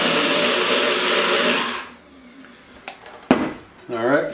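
A kitchen blender whirs loudly for about two seconds, puréeing creamy salsa made with chili powder, cilantro and heavy whipping cream, then stops, followed by a few clinks of the lid and dishes and a brief voice.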